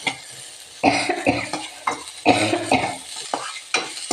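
Onion sautéing in a pan with a pinch of salt for papaya masala curry, loud sizzling broken by repeated scraping stir strokes in an uneven rhythm, close and without speech.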